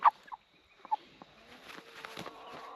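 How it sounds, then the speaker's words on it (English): Cornish cross meat chicken making a few short, sharp clucks near the start, then soft scratching, shuffling and rustling close by, with no talk. "Cornish cross chickens are meant to be fat and lazy, but this chicken just moves slower than the rest"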